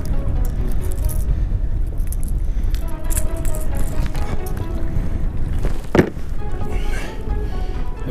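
Wind gusts across a pond during kayak bass fishing, a loud, continuous rumble buffeting the microphone, with small knocks and water sounds and a sharp bump near the end.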